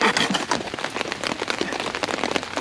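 Rain patters steadily on a tarp sheltering a bushcraft fire-lighting spot in wet conditions, making a dense, close drumming of drops that continues throughout with no speech.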